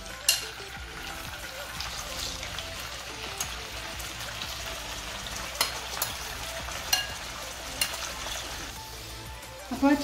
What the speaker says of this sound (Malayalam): നമ്മൾ ചിക്കൻ ഇട്ട് കൊടുക്കുകയാണ്.